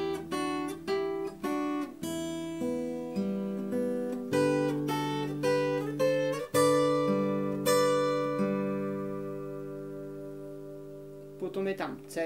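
An acoustic guitar plays the chords and melody of a folk song together, strummed and picked notes ringing close up with steady rhythm, then sustaining and fading before a final strum.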